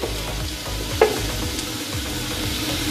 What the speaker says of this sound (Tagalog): Konting gisa lang.